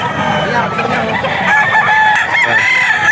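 Several roosters at a gamefowl farm in Bocaue, Bulacan crow loudly and continuously, with overlapping drawn-out calls filling the whole stretch close to the microphone and no pause between them.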